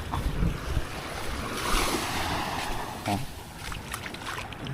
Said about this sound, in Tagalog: Kita ko sa inyo kung gaano kalmado yung dagat.